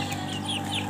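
A hungry pet chicken clucks close by in a steady, continuous run of throaty calls, with faint higher chirps above and no speech.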